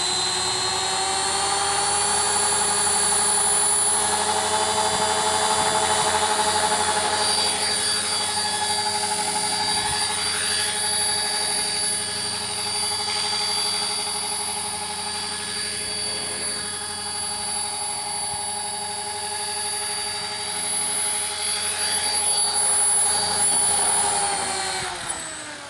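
An RC CCPM helicopter in flight gives a steady high-pitched whine from motor and rotor that holds for the whole stretch, loud and close, with slight pitch swells as it manoeuvres and no talk over it.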